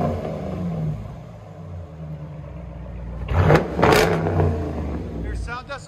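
A Dodge Durango R/T with a 5.7L HEMI V8 and aftermarket exhaust idles close by with a deep rumble, then two sharp throttle blips surge loudly around the middle before settling back to a burbling idle.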